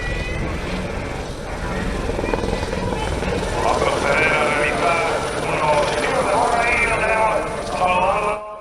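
A Eurocopter EC120 Colibri helicopter's steady rotor and engine roar fills the whole stretch, loud and continuous, with a voice talking over it, at an airshow.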